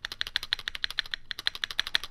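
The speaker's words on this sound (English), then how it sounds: "The spacebar does have some rattle." Typing on a Keychron Q1 mechanical keyboard with screw-in, heavily lubed stabilizers: a rapid, steady run of close, crisp clacky keystrokes with a rattling spacebar, briefly pausing midway before resuming.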